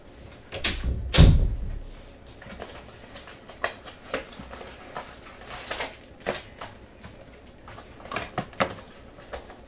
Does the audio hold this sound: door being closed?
yes